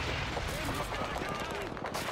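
Gunfire rings out in Call of Duty 2, a rapid burst of shots heard beneath a voice as someone talks over the game action.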